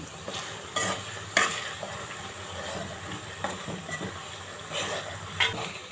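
Homemade herbal hair oil heating in a pan while being stirred continuously, a steady soft sizzle and frying crackle with scraping stir strokes and a few louder bumps, close and alone with no talk.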